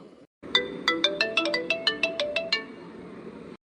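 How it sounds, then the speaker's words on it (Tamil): A mobile phone ringtone plays a quick run of about a dozen bright, repeating electronic chimes in a steady rhythm, close and clear with nothing else over it, then stops. "அட யாரோ போன் அடிக்காவல"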